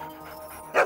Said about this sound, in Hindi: सुर में भोंकते हैं यार मामूली कुत्ते नहीं है ये